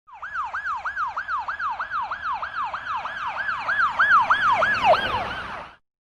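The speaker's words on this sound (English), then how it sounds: "Police car." A police car siren wails in a steady, rapid rise-and-fall cycle, loud and close, repeating about a dozen times before cutting off abruptly, with no voices.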